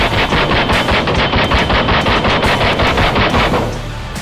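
A Hatsan Blitz full-auto PCP air rifle fires pellets in one rapid, continuous burst of loud, evenly spaced snapping shots lasting about four seconds before cutting off.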